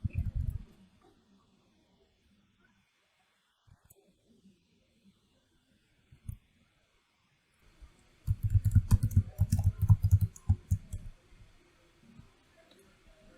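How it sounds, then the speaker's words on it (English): Keyboard typing as a computer name is entered during a macOS setup on VMware, a burst of quick clicks around the middle after scattered taps, fairly close and moderately loud. "We have to type the computer name"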